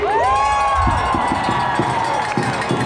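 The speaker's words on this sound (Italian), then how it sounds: "facciamo l'ultimo urlo, buona crisi climatica a tutti!" A crowd at an outdoor climate strike rally in Brescia shouts and cheers together in one loud, sustained roar, with whoops and higher voices rising over the din.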